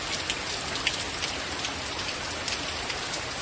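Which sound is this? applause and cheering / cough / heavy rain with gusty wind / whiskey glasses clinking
heavy rain with gusty wind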